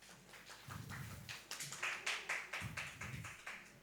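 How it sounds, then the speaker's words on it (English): An audience claps for a woman after a question session at a digital skills outreach event for people with disabilities, a steady patter of hands that swells, briefly dips, then continues. "Let's clap for her once again."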